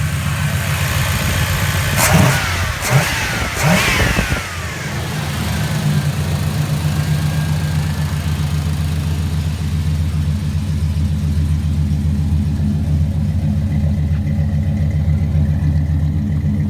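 A 1989 Caprice 9C1 with a mild-cam 330 hp GM crate V8 and Flowmaster 40 series true dual exhaust gives three quick, sharp throttle blips early on, then settles into a steady, rumbling idle up close.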